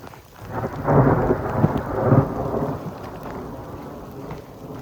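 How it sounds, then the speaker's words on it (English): Deep rolling thunder rumbles and swells over a steady downpour of rain on a mountain trail, loud and close, then fades to a softer hiss of rainfall. "A lot of thunder."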